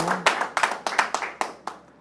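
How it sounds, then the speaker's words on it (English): An audience clapping at a business opportunity presentation: a short burst of about eight sharp, fairly regular claps, close and loud, each fading quickly. "You want to do a clap on that one?"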